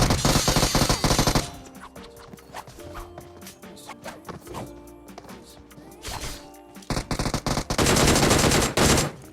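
Bursts of rapid gunfire in PUBG Mobile open and close the stretch, loud and sustained, with quieter clatter and scattered shots in between.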